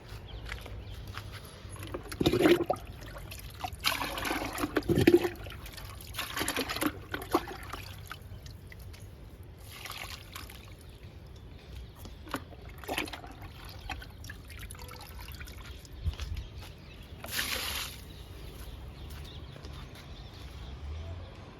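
Liquid fertilizer is poured onto potted plants in several short, quiet trickling bursts, separated by pauses with faint ambient background noise.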